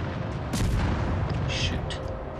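Naval guns firing in World of Warships Legends, from the light cruiser Tenryu, a few deep booms rolling over a constant low rumble of battle, with a voice talking over them.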